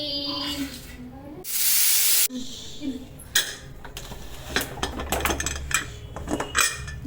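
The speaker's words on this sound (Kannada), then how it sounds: "ಈಗ ಮುಚ್ಚಳನ ಹಾಕ್ತಾ ಇದ್ದೀನಿ" A metal lid set onto a pot of egg biryani in a home kitchen, giving a few clanks and clatters of cookware amid a brief hiss of steam, with a voice speaking briefly.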